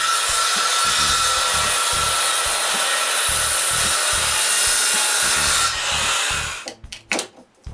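A hand saw rasps through wood in a rapid series of cuts for a tenon, the rhythmic back-and-forth strokes loud and close before stopping abruptly near the end, followed by a few knocks.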